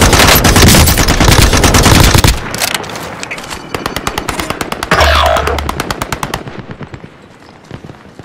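Rapid automatic machine-gun fire from a sentry gun in the Call of Duty: Warzone video game, a loud sustained burst followed by quicker choppy volleys, with distinct single shots trailing off near the end.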